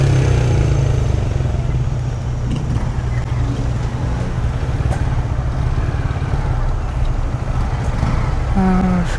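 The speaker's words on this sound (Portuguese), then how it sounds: "é logo os polícia levando uma das motos pro pátio" Motorcycles being hauled off by police to an impound lot, heard as a steady low engine drone with passing traffic noise throughout, fairly loud and continuous, with a brief higher engine note near the end.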